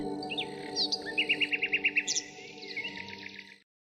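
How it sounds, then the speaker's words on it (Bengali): Birds chirp and tweet at dusk around a village, with a quick run of bright, evenly spaced calls in the middle over a quiet background, then the sound cuts off abruptly. "এখন চারপাশে কেবল পাখিদের ফিরে যাওয়ার শব্দ"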